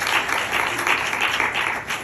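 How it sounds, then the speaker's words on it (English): An audience applauds steadily at a launch event, dense, close clapping filling the whole stretch with no voices over it. "Give her a big hand of applause,"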